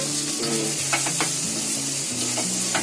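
Vegetables and corn for poha are stirred in a hot pan, giving a close, steady sizzle with scraping stir strokes and a light tick of metal throughout.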